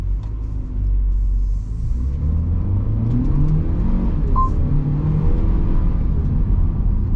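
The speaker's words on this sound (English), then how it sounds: "The 2-litre turbo does get up and go, which is quite nice" A 2021 Haval H6 with a 2-litre turbo engine accelerates through the gears, a deep cabin rumble rising in pitch with each pull and dropping at the shifts, steady and close.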